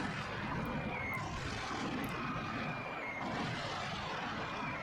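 A propeller airplane flies overhead in a war film, its engine a steady, broad droning roar that fills the whole stretch without letting up, with no talking over it.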